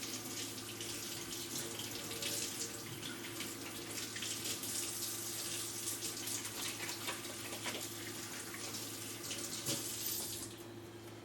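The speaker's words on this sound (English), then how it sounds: "let me rinse my hands real quick" A tap runs continuously into a sink while hands are rinsed under it, a steady, close hiss of flowing water with slight splashing changes, easing off just at the end; no one speaks.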